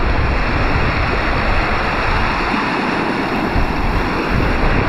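A waterfall flows steadily along the Gibb River Road, a loud, unbroken rushing roar of water that stays constant from start to finish.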